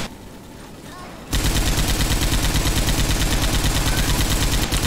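Loud, continuous automatic gunfire mowing down infected in Left 4 Dead 2, starting abruptly after a quieter moment and hammering steadily to the end.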